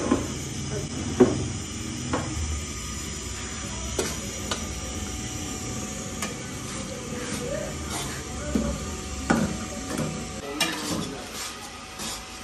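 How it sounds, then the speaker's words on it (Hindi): Spoon stirring and scraping gram flour roasting in a pan over a low flame in a village kitchen in Punjab, a steady soft scraping with faint sizzle and occasional clinks, continuous throughout. "हल्की आंच पर हम इसको मुसलसल चम्मच हिलाते हुए इसको भूनेंगे।"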